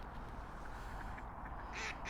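Ducks quacking by a winter lake, a couple of short quacks near the end, faint and somewhat distant over steady outdoor background noise.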